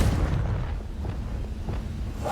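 A Confringo spell in Hogwarts Legacy leaves a dense, continuous low rumbling roar with a few faint soft thuds inside it, steady and fairly loud throughout.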